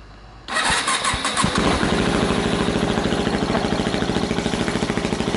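A Yamaha WR250X motorcycle engine cranks and fires up after a brief hum, then settles into a loud, steady, rapidly pulsing single-cylinder idle close by, with no talk over it.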